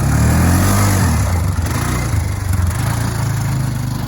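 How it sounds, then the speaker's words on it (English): A freshly rebuilt Polaris engine runs loud and close, a deep, steady rumbling drone with slight wavering in its pulse and no voices over it. "and Mark put his engine into his Polaris, and here it is running."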